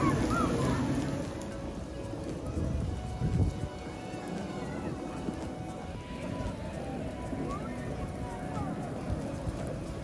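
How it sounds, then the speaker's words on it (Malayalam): Artificial rain falls steadily at Zawaya Walk in Sharjah, a continuous close hiss of water spattering on surfaces with a few sharper knocks, running throughout under background activity. "ഇപ്പോൾ ഇവിടെ നല്ല മഴ പെയ്തുകൊണ്ടിരിക്കുകയാണ്"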